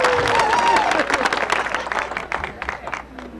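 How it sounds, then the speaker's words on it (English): Crowd applause with a whistle and scattered cheers at an outdoor Labor Day coal festival crowning ceremony, loud at first and then tapering to sparse claps. "you can just break into some applause and whistle and cheer me on"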